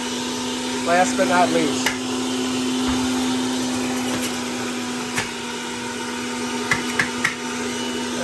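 Breville Juice Fountain Elite juicer running with apples and ginger, a steady motor whine droning throughout with a few knocks and clunks, while a person talks briefly over it.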